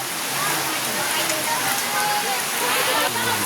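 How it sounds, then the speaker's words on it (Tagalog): Steady, dense rain hisses continuously on a surface, loud and close, with no pauses. "Ulan."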